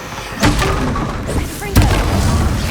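Blasts of the Confringo fire spell in Hogwarts Legacy, played on PS5 in a haunted-house quest in Hogsmeade: two sharp booming thuds about a second apart over a dense game soundscape, with a voice shouting the spell's name in between.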